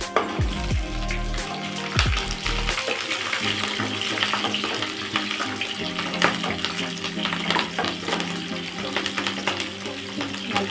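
Curry leaves and green chillies frying in hot oil for capsicum rice. A dense, continuous crackling sizzle starts loud and near with a few heavier pops early on, then settles into a steady hiss.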